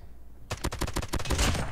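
Rapid tap-fired bursts from the Holger 26 in Call of Duty Mobile, a quick string of sharp, punchy gunshots following a half-second of quiet, loud and close with no talking.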